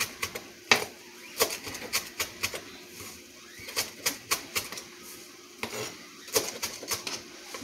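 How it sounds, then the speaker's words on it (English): A knife chops fresh cilantro on a cutting board in a home kitchen for crawfish and shrimp alfredo pasta, giving sharp, clicky taps in irregular bursts, close and fairly loud, with short pauses and no talking. "Now, I'm gonna get ready to cut up my cilantro."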